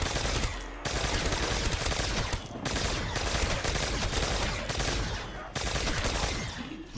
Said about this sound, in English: Let's go ahead and use the ray gun Mark II for a bit.